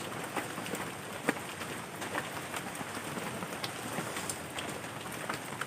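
Steady rain falls alone at moderate level, a dense even hiss with scattered louder drop impacts and no voices.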